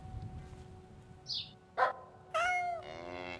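A cat meows in The Witness puzzle game, a rising then falling cry near the end after a short chirp and a dog-like yelp, all fairly quiet over a soft low background hum.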